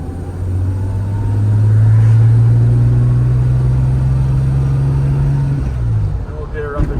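A 1963 Jaguar E-Type Series 1 coupe engine pulls hard in second gear, its steady mid-pitched drone rising and holding loud and close for several seconds before easing off.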